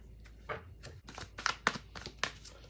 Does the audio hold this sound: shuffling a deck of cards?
yes